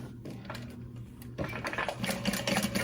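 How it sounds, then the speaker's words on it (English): A sewing machine topstitches handbag pieces together, running in a quieter stretch and then a louder, faster burst of rapid mechanical clatter; no voices. "top stitching, well, sewing these pieces together."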